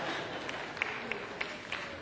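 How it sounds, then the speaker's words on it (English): An audience at a Martin Luther King celebration at Seattle Colleges applauds steadily in a hall, a dense, even wash of clapping with a few sharper claps standing out over about two seconds. "Dr. Mitchell, you have a PhD, and that still gets the biggest applause."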